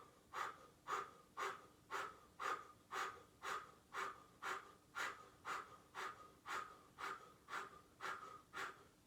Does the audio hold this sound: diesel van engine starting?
no